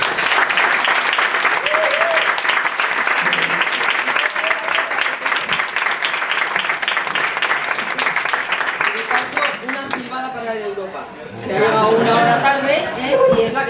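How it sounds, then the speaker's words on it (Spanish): Audience at an evening event at The Clover House in Madrid breaks into loud, sustained applause for a guest, dense clapping filling the room for about ten seconds before it thins and a voice begins speaking over the tail. "Y ahora sí, por favor, un fuerte aplauso para Inés."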